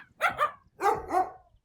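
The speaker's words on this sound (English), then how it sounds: "starts sounding like a squeaky toy." Four quick, high-pitched yips in two pairs, a dog's bark sped up until it squeaks like a rubber toy.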